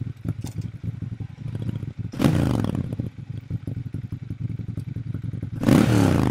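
Ducati Monster 796 motorcycle engine, close and loud with a rough pulsing thrum, broken by two sharp bursts of wind and acceleration, one early and one near the end.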